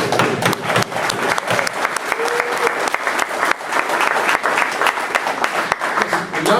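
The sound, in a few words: audience applause at ceremony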